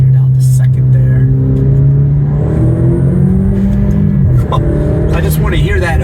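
Alfa Romeo Giulia Quadrifoglio engine blipping and revving on a downshift to second gear in the rain, a loud, steady engine drone with rising and falling pitch, heard from inside the car with talking over it.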